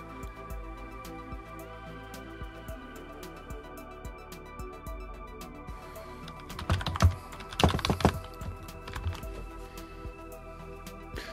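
A command typed on a computer keyboard while setting up DietPi Linux on a Raspberry Pi 2: steady close key taps through most of the stretch, with a denser burst of louder clacks partway through, and no voices.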